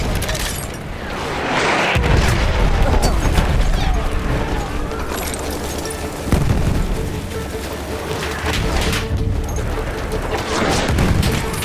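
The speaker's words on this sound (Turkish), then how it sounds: "Bomba geliyor." Bombs explode in the WWI shooter Battlefield 1 on the Gallipoli Cape Helles operations map: two heavy booms land about four seconds apart, loud and close, within a continuous din of gunfire and battle noise.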